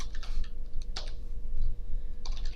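Typing on a computer keyboard: a few short bursts of quick key clicks, close and fairly quiet, with brief pauses between them.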